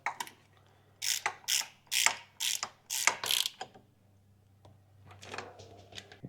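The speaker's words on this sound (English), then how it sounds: "You just go along and do all your mounting bolts up" A ratchet tightens transmission mounting bolts on a Toyota Hilux LN167, with about seven rapid bursts of close, crisp clicking, then a pause and a few more fainter ratchet strokes.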